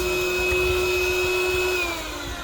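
An electric whisk whirs steadily through butter for coconut bread, a continuous motor drone with a faint whine that dips slightly in pitch near the end.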